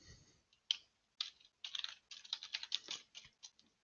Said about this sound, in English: So all I'm doing is typing in this formula,